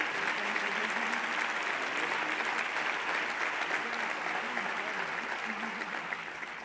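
Steady, dense applause from an awards ceremony audience, continuous and even throughout, easing slightly toward the end.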